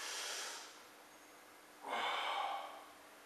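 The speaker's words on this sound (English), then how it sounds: "Now if I take a sharp inhale" Two breaths drawn sharply through the nose during a kettlebell jerk exercise, the first soft and brief, the second louder and longer, close to the mic with no talking.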